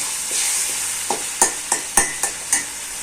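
Chili paste with ground paste and crushed garlic frying in oil for pulichcha keerai thokku, stirred with a spoon that scrapes the pan in about six distinct strokes over a soft steady sizzle, close and fairly loud.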